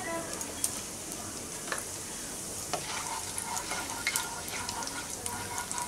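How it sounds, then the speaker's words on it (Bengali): Two dried red chillies and a quarter teaspoon of whole cumin sizzle in three tablespoons of hot mustard oil in a kadai, a steady broadband crackle with occasional sharper pops and light stirring, close and fairly quiet with no talk. "এখন আমি কড়াইতে ফোড়ন দিয়ে দিচ্ছি 2টো শুকনো লঙ্কা, দিচ্ছি 1/4 চা চামচ সাদা গোটা জিরে"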